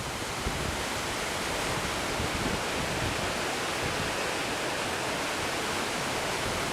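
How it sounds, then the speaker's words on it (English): Steady broadband rush of water from the partly frozen waterfall at Boulder Falls on Boulder Creek, Colorado, in winter, loud and continuous with no voices. "The waterfalls are about half frozen and half still flowing."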